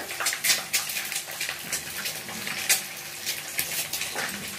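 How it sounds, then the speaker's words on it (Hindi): Milk boils in a pot for jaggery kheer, with bursts of bubbling and gurgling rising and falling unevenly close by. No one speaks. "दूध में उबाल आ गया है ना"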